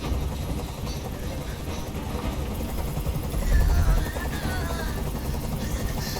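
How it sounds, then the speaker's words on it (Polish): A helicopter in the video game Detroit: Become Human drones steadily with a low engine rumble and rotor noise that swells louder midway, heard alone without speech. "Nie mogę już znieść tego hałasu! Każ swoim odwołać helikopter!"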